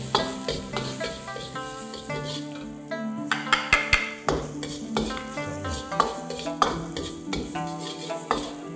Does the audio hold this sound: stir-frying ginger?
yes